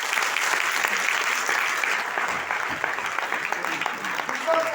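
An audience of direct-selling leaders at a leadership meeting applauds loudly and continuously, with speech-like sounds also mixed in.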